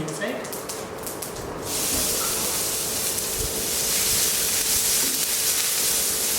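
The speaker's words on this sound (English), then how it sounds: "So you can hear the sizzling sound." Dry spices sizzle in hot oil for Shahi Malai Kofta, a steady loud hiss that swells after a brief clatter, close up with talk over it.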